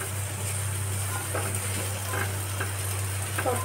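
Sliced capsicum and onion sizzle in a hot pan, a steady bright frying hiss with occasional scrapes and clicks of stirring over a low constant hum.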